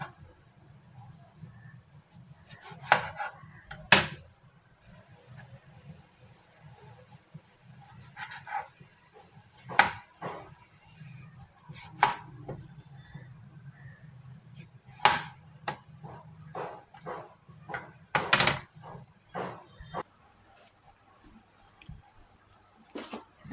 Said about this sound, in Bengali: এরকম করে সবজিতে স্লাইস করে কেটে দিচ্ছি।